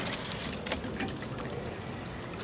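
Creek water flowing into a natural pond, a steady, continuous trickling and pouring wash that stays even and fairly soft throughout, with no voices.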